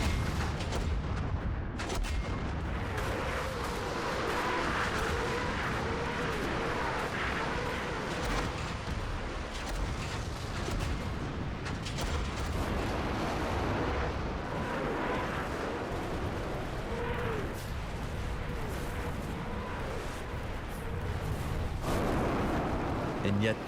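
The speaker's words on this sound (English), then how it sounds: "they unleash their artillery and Katyusha rockets" Sustained World War II artillery barrage and Katyusha rocket launches, a continuous dense rumble of booms and blasts lasting over twenty seconds, with a narrator speaking over it.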